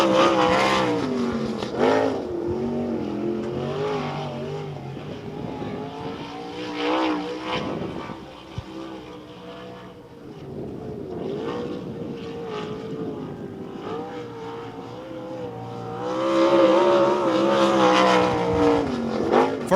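The number 44 race car of Jason Howell laps Devil's Bowl Speedway, its engine note rising and falling as it passes, swelling loud at the start and again near the end, fading between, with no talk.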